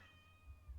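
A pet cat gives a single soft, drawn-out meow, faint and fairly close, with a low rumble of background noise underneath.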